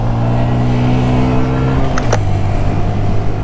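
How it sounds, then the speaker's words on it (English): A black car passes by on a road, heard from inside another moving vehicle: a steady engine and road rumble with a brief swell of passing noise midway, loud and close, with no talk. "That's a black car."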